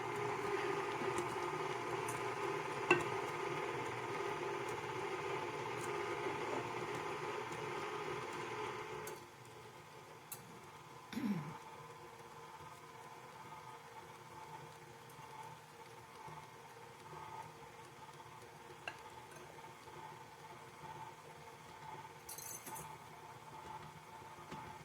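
Stand mixer left on stir while dry ingredients are added to chocolate chip macadamia cookie dough: a steady whirring motor hum for about nine seconds, then quieter with occasional clicks and bumps.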